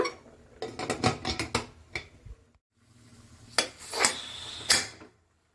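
Metal pots and utensils clatter and clink in a home kitchen as a lid is set onto a boiling pot of ridge gourd curry, bursts of rattling followed by a brief pause, then more sharp clanks.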